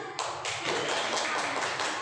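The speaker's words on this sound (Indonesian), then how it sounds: "Tepuk tangan." Indonesian workshop audience clapping hands together, a dense steady patter of many claps that starts abruptly and holds evenly loud throughout with no voices over it.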